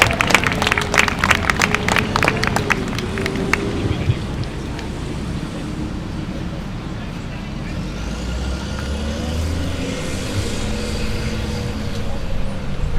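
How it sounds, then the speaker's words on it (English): An audience claps and cheers for a speaker being introduced at a National Day of Action for Higher Education event, with a burst of claps in the first few seconds fading into a steady rumbling background with some voices. "Come on, let's hear those claps."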